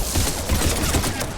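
Rapid gunfire from a Mass Effect 3 firefight, dense continuous bursts of loud shots filling the whole moment.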